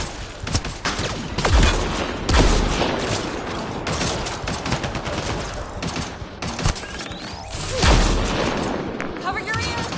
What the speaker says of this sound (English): Grenade in!